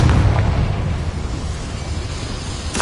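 A Confringo blasting spell explodes in a mine in Hogwarts Legacy, a loud booming blast that rolls into a deep, rumbling decay over a few seconds.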